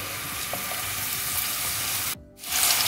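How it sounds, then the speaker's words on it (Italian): Zucchini sizzle steadily in hot extra virgin olive oil in a pan, a continuous close crackling hiss with a brief dip near the end before the frying swells back louder. "Pronto l'olio, cuociamo le zucchine."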